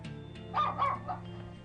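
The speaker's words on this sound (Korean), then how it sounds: "정말 미친듯이 으르렁거리며 짖어댔습니다" A dog barks in three short, loud, close yaps in quick succession over a low steady hum.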